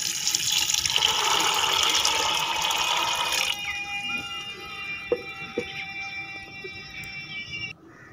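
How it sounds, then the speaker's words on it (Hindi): Water poured from a tap into a pot of pomegranate seeds, a steady rushing stream for about three and a half seconds that then stops, leaving quiet kitchen sounds and a faint tone. "बर्तन में दाने डाल के उसके बाद इसमें पानी डाल देना है।"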